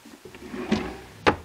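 A wooden drawer slides and bumps shut in a small room during unpacking, a soft scrape followed by a sharp knock, close and alone.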